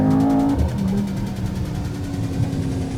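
The Mercedes-AMG GT 63 S E Performance hybrid roars close and loud, a deep engine note that flares at the start and then settles into a steady growl.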